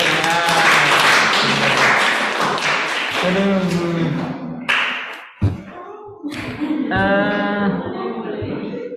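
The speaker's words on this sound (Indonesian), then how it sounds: "Nah, tepuk tangan." Applause in a hybrid university lecture class on managerial economics, a burst of clapping and tapping that fades, followed by thumps, handling noises and voices talking in the room.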